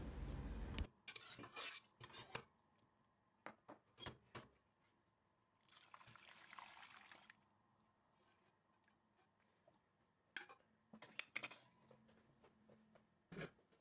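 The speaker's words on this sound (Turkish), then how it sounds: "Geniş bir tencerenin içine alıyorum." Ingredients go into a large cooking pot for a meat, potato and carrot stew, heard as scattered clinks, knocks and a soft wet rustle in separate bursts with quiet gaps between, close and fairly faint, with no talking.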